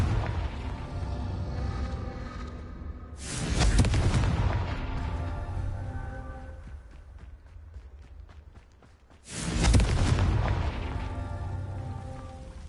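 A Confringo blasting spell in a Harry Potter video game sets off two loud, booming explosions a few seconds apart, each one a sudden burst that rolls into a long, rumbling decay.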